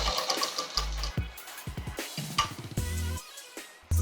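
A sewing machine runs in short bursts while stitching a full circle lehenga, its rapid mechanical chatter starting and stopping several times, close and fairly loud, with the fabric shifted between runs.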